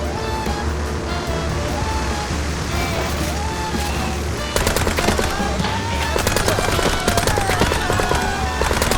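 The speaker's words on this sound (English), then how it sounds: "Just shut up and keep firing!" Rapid automatic gunfire from a shootout cutscene in the game Mouse P.I. For Hire, steady and loud with a dense layer of sustained noise, growing harsher and more crackling in the second half.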